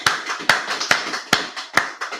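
An audience claps at the close of a class, with a few sharp, loud claps landing at roughly even intervals and quieter scattered claps filling the gaps between them.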